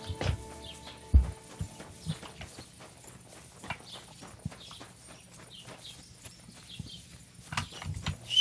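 Horse hooves clip-clop at a steady walking pace in a video game, a series of sharp, fairly close knocks over a quiet background, with occasional faint bird calls; no one speaks.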